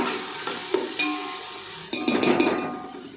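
Tomatoes fry in a pan for chicken curry, a gentle sizzle with a few spaced metallic taps and clinks, then a louder burst of stirring and scraping near the end, no talking.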